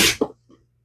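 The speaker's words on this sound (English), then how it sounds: "And big sneezes. Very much big sneezes." A single quick, breathy sneeze from a livestock guardian dog bursts out up close, followed by a faint snort.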